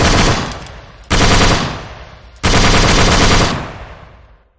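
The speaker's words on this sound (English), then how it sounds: "We have shells for it that ejects, so that's 50 cal." .50 cal machine gun in an Arma 3 World War II mod fires three long, loud sustained bursts, each cutting off abruptly and trailing into an echoing decay, with no voices.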